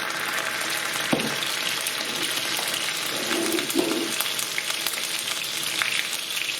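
Garlic and ginger paste frying in hot oil for chicken tikka masala: a steady loud sizzle with crackling spits and a few soft clinks of stirring throughout, no talking.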